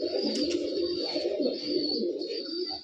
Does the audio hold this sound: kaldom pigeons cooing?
yes